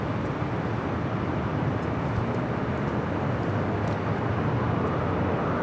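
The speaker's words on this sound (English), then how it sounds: "Next arrival is at Delta Heavy, 767-300ER, coming from Atlanta, flight 301" A Delta Heavy 767-300ER arriving at LAX from Atlanta, heard as a steady, broad jet roar that holds at an even level throughout with no talk over it.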